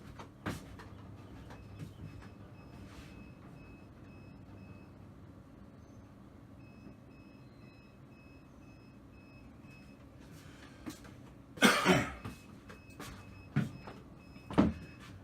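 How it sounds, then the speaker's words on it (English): Electronic beeping from an RV trailer's battery inverter as it shuts down after sensing a fault, a faint repeating tone of two alternating pitches over a low hum, with a few louder knocks and clatters near the end. "I don't know if you can hear that beeping or not, but the inverter sensed that there was a problem"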